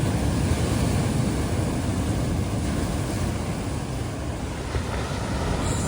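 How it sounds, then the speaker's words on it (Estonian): Big ocean waves crash and roll onto the shore in Madeira, a continuous loud surging roar with wind buffeting the microphone throughout. "Nüüd tuleb õige laine."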